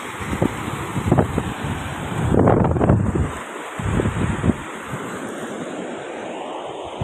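Rough sea waves surge at Machilipatnam beach during a cyclone, crashing surf bursts rising and falling over heavy, constant wind noise buffeting the microphone.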